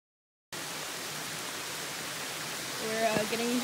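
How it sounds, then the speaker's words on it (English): Heavy rain near a waterfall in Hawaii roars in a dense, steady hiss with rushing water underneath. A short voice-like sound rises near the end. "The rain is coming down harder now."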